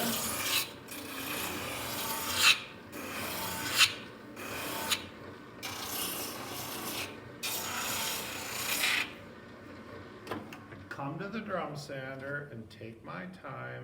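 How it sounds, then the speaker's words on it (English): Drum sander smoothing wood, rough grooves left by a belt sander; repeated raspy bursts of abrasive rubbing in an uneven rhythm for about nine seconds, followed by someone speaking. "if I come to the drum sander,"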